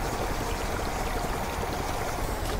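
A water gun in the game Lightyear Frontier sucks up water, giving a continuous rushing, gurgling stream that stays loud and steady throughout without pause.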